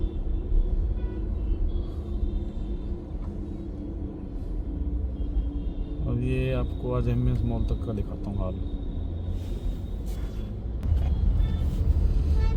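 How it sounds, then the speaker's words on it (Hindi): City road traffic in Gurgaon, with a steady low rumble of engines and vehicles moving past and a few horn-like tones. Someone talks over it throughout. "ये ट्रैफिक है भाई"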